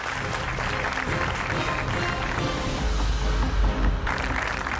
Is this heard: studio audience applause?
yes